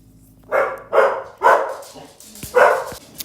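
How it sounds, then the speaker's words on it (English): A dog barks four times at close range in a quick, uneven rhythm, with faint background noise between barks. "my dogs heard a car coming, so that's what that was"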